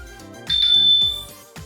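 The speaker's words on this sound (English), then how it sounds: "Select the bell icon in the bottom right to ring the bike bell." A Garmin Edge 1050 bike computer's speaker sounds its bike-bell ring: one short, bright chime rising over soft background music, then fading.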